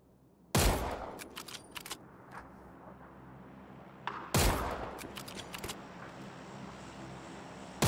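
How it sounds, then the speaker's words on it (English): Gunfire in the video game PUBG: two sharp, loud shot bursts about four seconds apart, each followed by a rapid patter of smaller cracks and clicks fading into a low game ambience, with no talk. "Shots over to my right"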